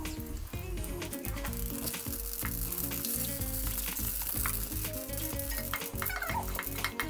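Mustard seeds and whole coriander sizzling in hot oil in a pan while onion kachori filling is cooked, a constant dense crackle and fizz with scattered sharp pops, steady and close throughout.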